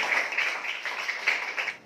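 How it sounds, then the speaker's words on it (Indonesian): A short burst of scattered hand clapping from students in a classroom applauding group 3, lasting under two seconds with no talk over it. "Berikan tepuk tangan untuk kelompok 3"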